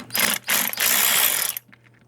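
A hand ratchet backs out screws on an Audi 2.0 throttle body in two close, loud bursts of rapid clicking, the second burst longer, then a brief faint rattle.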